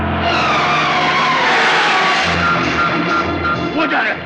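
A car pulls away hard with tires skidding and squealing, engine noise loud and close throughout, while excited voices talk over it.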